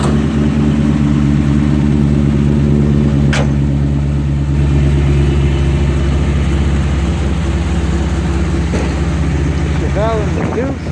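Several Chevrolet engines idle steadily as they warm up at an evening car cruise night, a loud continuous low rumble throughout with a brief sharp noise partway through.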